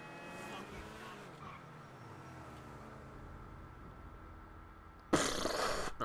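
In GTA V, a car rams an F1 race car: a steady engine drone runs under the scene, then a sudden loud crash bursts out near the end.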